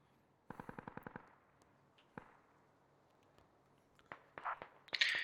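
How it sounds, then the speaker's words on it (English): Machine gun fire in the tactical shooter game Squad: a quick burst of rapid, evenly spaced shots near the start, then scattered single cracks and a louder cluster of gunfire toward the end. "Whoopball's got a nice little position, I think, with his MG."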